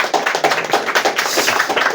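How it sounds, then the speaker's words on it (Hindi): Applause for a student being called up at a school board-exam preparation gathering, dense rapid hand claps from a crowd, loud and continuous with no talk. "इन लड़के के भाई जोरदार ताली बजाओ भैया"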